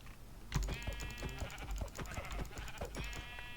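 Sheep bleating in the video game Minecraft, a few wavering nasal bleats close up, mixed with rapid clicking like keyboard or mouse presses and light game thumps.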